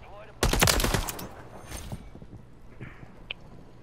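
Gunfire in Call of Duty, a sharp close burst of rapid automatic shots followed by scattered fainter shots and a single later crack, while players talk over it.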